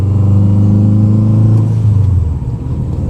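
A rebuilt Subaru WRX engine idles loudly and steadily up close, running a little rough, a deep rumbling drone that drops slightly in pitch near the end.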